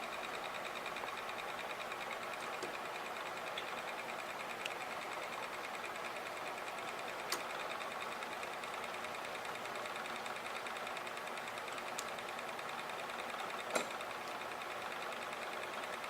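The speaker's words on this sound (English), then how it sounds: "You can see my little wheel is really spinning." A small hand crank generator wheel spins fast, giving a faint, steady mechanical whir with a few sharp ticks.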